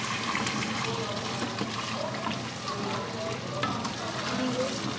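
Mutton curry frying in oil for aloo gosht, a steady dense sizzle with occasional stirring scrapes, continuous and close.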